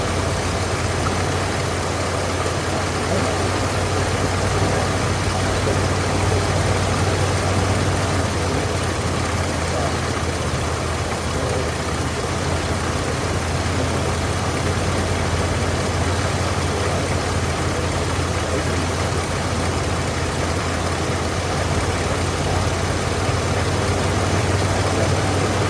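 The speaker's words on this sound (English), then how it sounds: "I don't know if you guys can hear the engine like idling higher and low when I'm turning it." A carbureted engine idles steadily for a long stretch, a continuous low hum with slight shifts in pitch, heard close with no talk over it.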